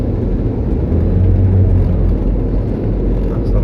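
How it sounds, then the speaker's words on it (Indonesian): A 2017 Nissan Grand Livina XV with a 1500 cc engine and CVT automatic accelerates in drive, giving a steady, loud low engine drone and whir heard from inside the cabin. "kalau kita coba akselerasinya ya, ini kita pasang di D"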